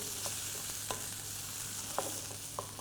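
Prawn masala fries in a pan with a steady close sizzle, broken by a few sharp scrapes of a spoon or spatula stirring the spices, with no talking.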